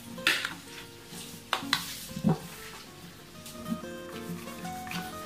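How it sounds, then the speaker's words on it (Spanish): A chicken burger mixture with mustard and ketchup stirred in a bowl, heard as a few sharp scraping and clinking strokes of the utensil against the bowl, close up, then a quieter stretch with faint background hum. "Y vamos a remover todo muy bien"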